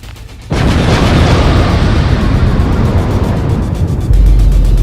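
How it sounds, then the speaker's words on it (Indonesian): A loud explosion in an animated drama bursts in suddenly and rolls on as a dense, sustained roar with deep rumble, swelling again at the end. "Meledak."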